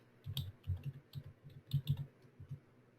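Keys clatter on a computer keyboard while a search term is typed, a quick irregular run of soft clicks, close and quiet, with no talking.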